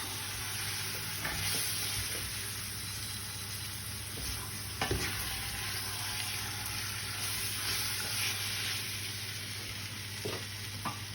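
Beef browning in a pan for a casserole, with a steady low sizzle and occasional scrapes of stirring throughout, no talking.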